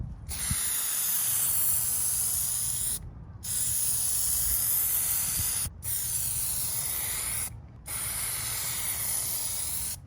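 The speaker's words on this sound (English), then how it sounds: "I'm going to spray it kind of from the bottom to get the bottom of the emblem" An aerosol can of Plasti Dip coating hisses steadily in four long bursts onto a truck emblem, separated by short silent breaks, close to the microphone.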